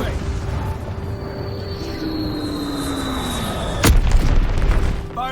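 A Call of Duty WWII kill streak goes off as a sharp, loud explosive boom about two-thirds through, with a rumbling tail after it, over steady game ambience and a falling aircraft-like whine.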